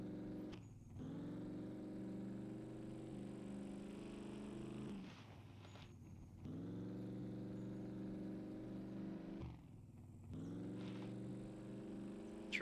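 A truck engine drives in the survival video game SCUM, a steady, loud harmonic drone that surges in long sustained stretches, broken by brief dips and pauses like gear changes, with no voices over it.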